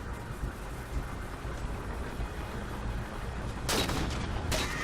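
Sniper rifle shots in the shooter Halo 4, heard as sharp cracks near the end over a constant busy rumble of battle, with smaller pops and no talking.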